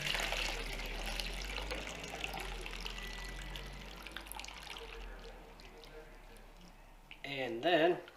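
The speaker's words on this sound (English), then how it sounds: "And then we're just going to put it right in the clean water. Swish it around." A Mopar cold air intake filter is swished around in a container of clean water, a soft, faint sloshing that grows into brief louder splashes near the end.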